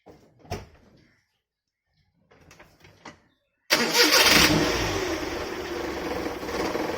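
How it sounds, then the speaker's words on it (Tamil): A 1997 Maruti 800 car has a few faint clicks and door-like knocks, then the engine starts with a sudden loud catch and settles into a steady, rough idle. "இப்போ வண்டியை ஸ்டார்ட் பண்ணி பார்க்கலாம்."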